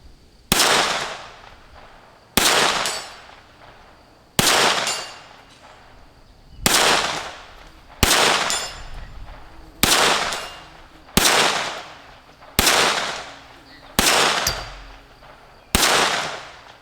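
Shots from a Keltec P17 pistol fired at a target: ten sharp, loud reports at a steady pace roughly every one and a half to two seconds, each ringing out and fading before the next.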